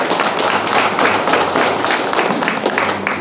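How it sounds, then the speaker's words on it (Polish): Warm applause from the crowd at an election campaign convention as a mayoral candidate is introduced, with many hands clapping loudly and steadily for a few seconds, close and lively, with no speech over it. "Poproszę o gorące, gorące brawa."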